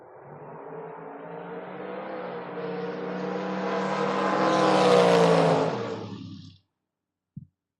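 Drag race cars, including a Camaro, roar down the strip at a door-car event, the engine note building steadily louder for about six seconds before cutting off, followed by a brief thump.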